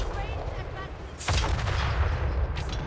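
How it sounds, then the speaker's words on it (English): Cannons fire shrapnel rounds in the video game Total War: Warhammer 3, with a sharp blast partway through followed by rumbling battle noise and a couple of further reports, moderately distant and without talk over them. "we're only firing shrapnel rounds with the central cannon, and then the regular rounds with the other cannons"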